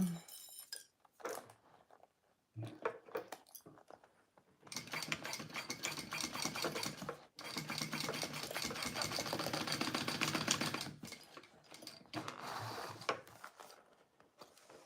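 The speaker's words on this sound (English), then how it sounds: "All right, let's sew this up." Sewing machine stitching a clear vinyl boxy bag: a steady mechanical whirring run of rapid needle strokes lasting several seconds, broken by short pauses and scattered handling clicks, fairly close and moderately quiet.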